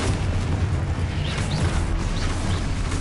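Spell explosions and blasts from combat in Hogwarts Legacy boom in a dense, continuous roar with repeated bursts and crashes, loud and unbroken over three seconds.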